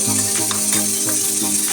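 Beef being fried with a masala of garlic and ginger paste, crushed red chilli and ground fennel, giving a steady close sizzle with faint stirring scrapes and a tonal background hum throughout.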